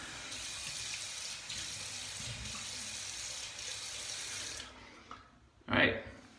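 Tap water runs steadily from a faucet into a sink as a face is rinsed after a wet shave with a closed comb razor, a soft continuous rush that stops near the end before a brief splash.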